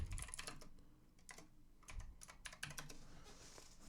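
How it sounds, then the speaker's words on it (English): Fingers type on a computer keyboard in rapid, irregular bursts of crisp close-up keystrokes that pause briefly and then resume, with no talking. "What am I typing in?"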